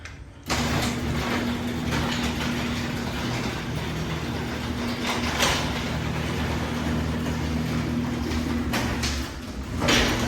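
An old Touch n Go 45A overhead garage door opener, worn and prone to jamming with a broken carriage, runs steadily with a droning motor hum and broadband rattle lasting about ten seconds, a couple of louder clunks along the way.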